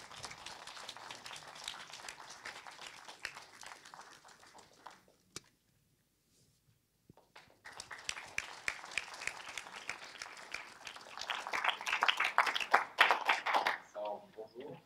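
An audience at a lunchtime chamber music concert claps, fades to near silence, then resumes and builds into louder, denser applause before stopping sharply.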